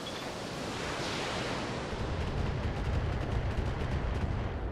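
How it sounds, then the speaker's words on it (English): LRM missiles and a medium laser firing in the mech game BattleTech make a dense, rumbling roar of weapon fire that swells and thickens in the second half, with no talking. "Fire the LRMs at that guy, and the medium laser at that guy."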